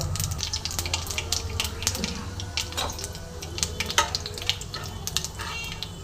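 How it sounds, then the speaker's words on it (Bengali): A tempering of black mustard seeds, two dried red chillies and radhuni frying in hot oil, a dense crackling sizzle with rapid tiny pops and occasional stirring scrapes, close and steady. "ফোড়নটা আমি খুব সুন্দর করে ভেজে নেব"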